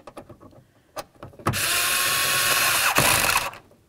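A mounting screw for a front interior door handle on a 1994-2004 Chevy S-10 is tightened with a ratchet, a few faint clicks and then a loud, steady buzzing run of about two seconds, close up with no talking.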